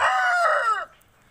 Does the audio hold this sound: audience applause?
no